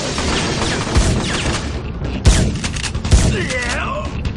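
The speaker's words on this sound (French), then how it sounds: "Je préfère le fusil de combat au fusil de chasse. Le fusil de combat tire plus." Combat rifle gunfire in a video game, with bursts of shots and sharp booms over a steady noisy background, several louder reports standing out, along with game sound effects.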